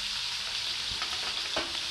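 Chopped onion and garlic sizzling in hot oil in a pan for pork steak, a steady close frying hiss with a few soft stirring scrapes, no talking.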